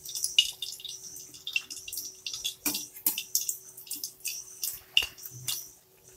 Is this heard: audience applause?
no